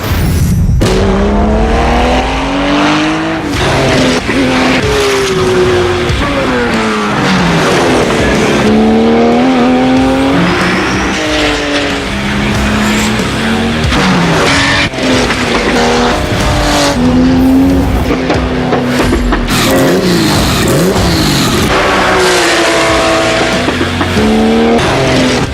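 A Porsche race car engine roars continuously, its pitch climbing and dropping through repeated gear changes, with occasional tire squeal, loud and close throughout.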